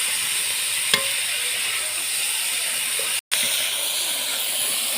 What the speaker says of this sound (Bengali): ভালোভাবে সব ভেজে নিচ্ছি